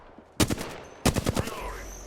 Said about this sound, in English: Taking fire. Firing on them.